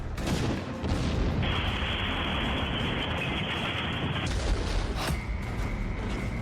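A massive explosion erupts into a long, roaring rumble of blasts and crackling debris, loud and sustained throughout.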